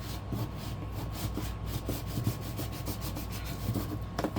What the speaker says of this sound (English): Pull, burnish it down,